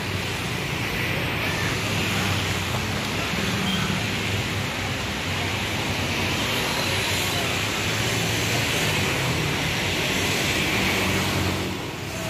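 A Muji Jaya Jetbus 5 coach bus passes along the road, its broad engine and road rumble steady and loud throughout, easing off only at the very end.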